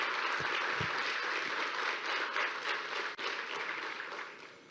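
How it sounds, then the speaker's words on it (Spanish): An audience at a Christian conference session applauds the organizers with dense, sustained clapping from a large crowd, steady and full throughout before fading slightly at the close. "darles un aplauso de parte de todos nosotros a los organizadores"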